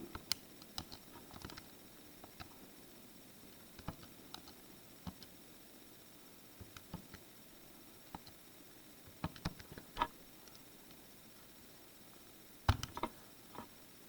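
Quiet, scattered key presses tapping on a calculator while a polynomial is entered, soft irregular clicks at close range with a few sharper taps and no talking.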